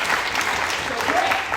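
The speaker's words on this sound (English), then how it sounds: "we can give him a round of applause" Audience applause for a salesman at a sales tribute event, a steady broadband clapping that fills the whole short stretch at even loudness, with no distinct voices standing out.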